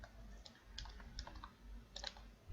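Quiet typing on a computer keyboard while writing HTML code: a short, uneven run of light key clicks, fairly close but soft, over a low room hum, with no talking.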